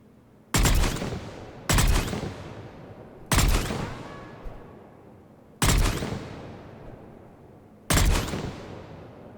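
Valkyrie rifle in Mass Effect 3 fires five loud, sharp bursts at slow, uneven intervals, each cracking report trailing off into a short echoing decay.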